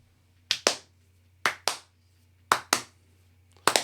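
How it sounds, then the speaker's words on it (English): Slow, deliberate hand claps in close pairs, four spaced double claps in a quiet room, sharp and near with silence between. "Long, slow clap on that one."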